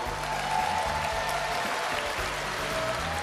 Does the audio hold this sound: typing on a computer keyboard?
no